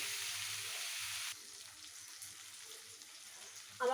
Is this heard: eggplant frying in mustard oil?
yes